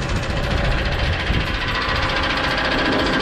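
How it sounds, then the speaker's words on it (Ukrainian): A Lovol 1054 tractor, rated at 105 horsepower, runs steadily nearby, its diesel engine giving a loud, even, rough drone with a rapid knocking pulse and no talk over it. "Трактор, напоминаю, Ловол 1054, 105 фінських сил."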